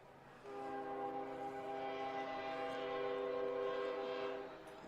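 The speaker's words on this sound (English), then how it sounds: "Train blowing south down St. Andrews Road here." A train heading south down St. Andrews Road, heard from a lacrosse championship game's press box, sounds a long, sustained multi-tone horn over a distant rumble, fairly faint and heard without talking.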